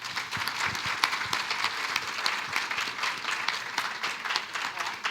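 Audience applause after a community panel dialogue, a steady moderately loud patter of many hands clapping that stays even throughout with no talk.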